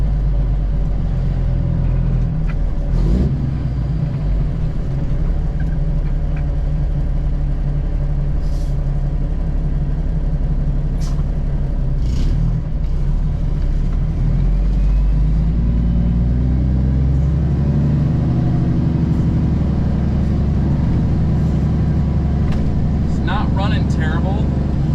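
Loud, continuous rumble of a semi truck engine running choppy, heard from inside the cab, its tone shifting and uneven, with a person talking over it.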